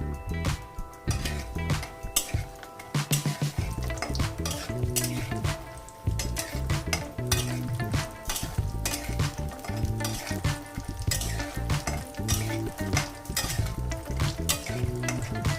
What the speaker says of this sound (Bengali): কড়াইতে সর্ষের তেল গরম করে নিয়েছি, দিয়ে দিচ্ছি বড়ি।